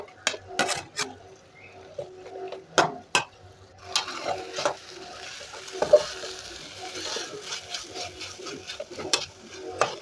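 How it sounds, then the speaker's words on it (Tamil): Finely chopped brinjal sautéing in a pan, with sharp, irregular spatula scrapes and knocks over a soft, low sizzle, heard close with no speech. "இப்போ 1/4 கிலோ கத்திரிக்காய் பொடி பொடியாக நறுக்குனதை போட்டுக்கலாங்க. நல்லா வதக்கிக்கணுங்க."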